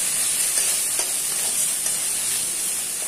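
Fish stuffing for potol dorma sizzles and crackles in a hot pan while being stirred, a steady close frying hiss with small stir scrapes and no voices.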